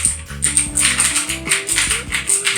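Keys on a Victsing mechanical keyboard clack rapidly and close up during steady typing, a dense run of crisp clicks with no voices.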